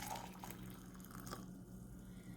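Boiling water is poured into a glass to make hot buttered bourbon. It gives a soft, steady liquid trickle close by, with no talk over it.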